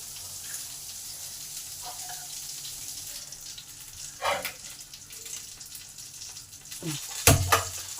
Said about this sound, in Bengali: আবার এই কড়াতেই কিছুটা তেল দিলাম কিছুটা হিং দিলাম